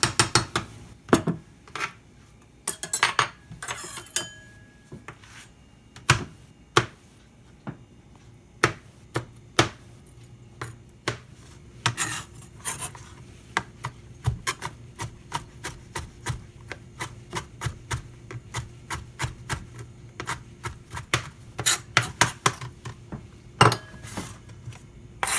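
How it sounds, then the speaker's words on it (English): A knife chops jalapeño peppers on a cutting board, producing irregular bursts of crisp, close taps and knocks that come in quick clusters with brief pauses between them. "I'm just going to take some of these jalapeños just and chop those up as well, just for a little bit of flavor."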